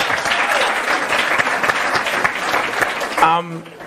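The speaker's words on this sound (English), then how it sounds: "So a round of applause for that." Audience applause at an entrepreneurship talk, a steady wash of clapping that runs throughout, with a voice speaking over it near the end.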